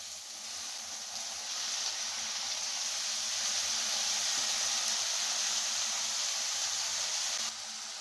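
Washed ponnaganti leaves frying in a pan with onions, giving a steady close hiss and sizzle that holds evenly throughout and drops off slightly at the very end.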